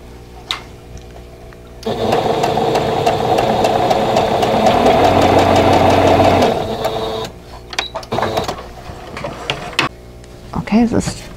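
A sewing machine stitches a vintage quilt block in one loud, steady run lasting several seconds, a continuous mechanical whir close to the microphone, with softer handling clicks before and after.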